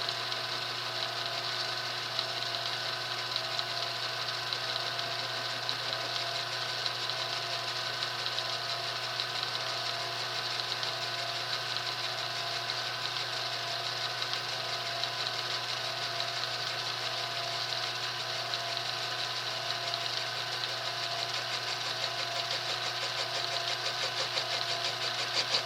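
Steady, unbroken machine drone with a low hum and bright tonal whine while a brass cannon barrel is machined with a light skim cut, holding an even level throughout with no pauses.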